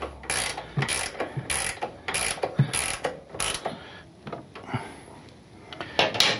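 Ratcheting box end wrench snugging bolts on a Harley Dyna rear shock: rapid bursts of sharp metallic clicks in a regular back-and-forth rhythm, close and crisp, repeated several times.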